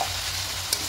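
A dry spice paste sautéed and stirred in a pan for a potato and okra curry, giving a steady close sizzle with a brief scrape of the spoon near the end.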